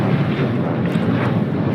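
A Boeing 747 at LAX preparing for takeoff on runway 25 left gives a loud, steady, broadband jet-engine roar with wind rumble and no break.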